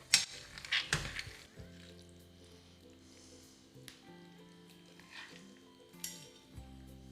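Linguine with mussels, cherry tomatoes and parsley is tossed in a pan, giving a few clattering knocks and wet scraping stirs over a faint sizzle, with quiet gaps between the bursts.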